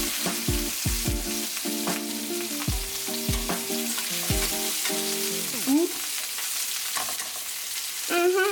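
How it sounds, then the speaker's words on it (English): Salmon sizzles and fries steadily in a pan, a continuous crackling hiss over rhythmic low clanks and thumps from the cookware. "let's flip the salmon before it gets burnt"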